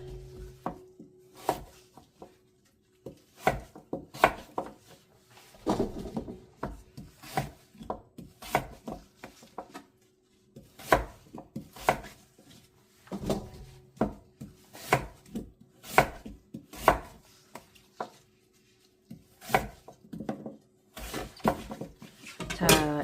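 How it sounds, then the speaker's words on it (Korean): A knife chopping radish into chunky cubes for kkakdugi on a cutting board, close, irregular knocks and thuds in quick bursts separated by short pauses, with a faint steady tone underneath. "무가 이렇게 썰렸어요"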